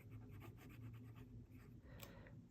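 A fountain pen fitted with a journaler nib, a Bone Crusher from 7 Studios, scratches across paper in a quick run of close, soft strokes, with a brief sharper scrape near the end.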